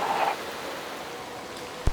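Rain during a Motorsport Manager career race at the Black Sea GP falls as a steady, soft hiss, with a brief sharp tick near the end and no speech.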